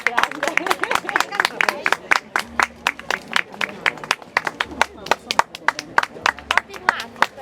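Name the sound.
clapping at fashion show start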